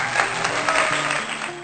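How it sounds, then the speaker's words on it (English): A brief burst of clapping and cheering rises for a solo traveller on a trip to Rome, short and fairly close, over a faint tonal background. "a round of applause for me"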